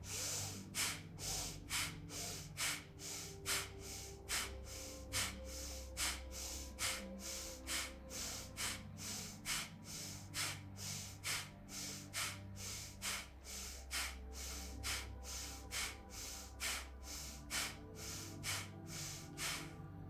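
Rapid, forceful bhastrika bellows breathing from yoga pranayama, a steady train of sharp nasal breaths repeating about twice per second for a long stretch, close and loud with no talking.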